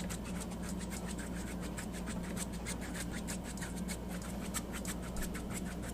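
A paintbrush rubs and strokes paint across a surface in quick, repeated scratchy strokes, a soft, steady brushing rhythm heard close up with no talking.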